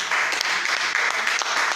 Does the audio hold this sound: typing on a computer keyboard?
no